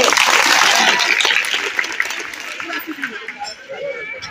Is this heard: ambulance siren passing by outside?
no